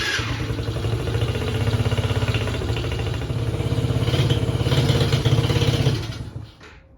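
A 50cc Tao Tao Chinese quad engine runs steadily with a buzzing, slightly clattering idle before cutting out abruptly near the end, heard up close.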